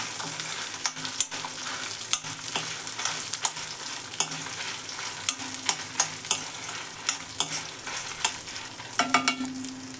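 Dried red chillies frying in tempering oil for Andhra-style gongura chutney, a continuous close sizzle dotted with sharp pops and occasional stirring clicks.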